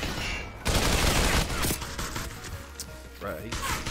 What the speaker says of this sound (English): it's like pistols and shotguns in this game